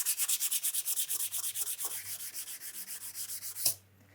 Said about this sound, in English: So I just go back over it again with some 400 grit.